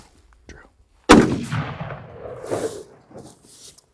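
A single sharp rifle shot from a Ruger American Gen 1 chambered in .243, fired at a target outdoors, loud and close with a booming tail that rings on for a couple of seconds.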